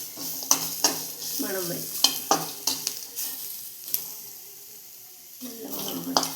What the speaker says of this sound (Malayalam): ഇപ്പോൾ എല്ലാം കൂടി കൂട്ടി യോജിപ്പിക്കുകയാണ്.